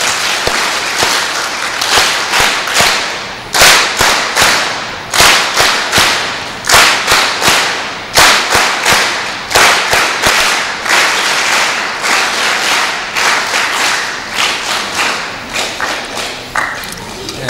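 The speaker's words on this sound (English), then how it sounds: "I would like to request all of you to give a big hand with the 3 clap" A large audience at a Chicago youth camp applauds in a rhythmic pattern, sharp loud clap bursts grouped in threes repeating steadily, close and crowded, with no speech.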